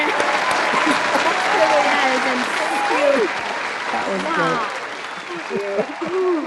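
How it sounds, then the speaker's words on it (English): Applause sound effect dropped into a New Year's special comedy episode, a loud sustained burst of crowd clapping with people talking over it throughout. "Let's add that applause sound effect in there."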